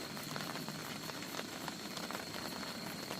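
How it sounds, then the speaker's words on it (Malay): Light drizzle falls at a cool-weather campsite in Janda Baik, a soft continuous patter of fine raindrops with faint scattered ticks, steady and even, no voices. "Cuaca cerah tapi hujan renyai-renyai."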